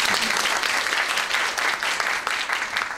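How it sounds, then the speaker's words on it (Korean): Steady applause from a conference audience at a DICON 2014 talk, welcoming the next session's speaker. The clapping is fairly even and moderately loud for three seconds. "박수 부탁드립니다"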